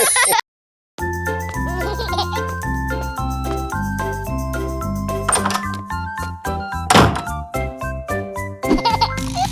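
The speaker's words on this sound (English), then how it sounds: "Who's that knocking, knocking at the door?" Knocking at a door in a children's nursery rhyme song: a few dull thuds land amid a bright, jingly musical backing, with a short burst of knocks near the end.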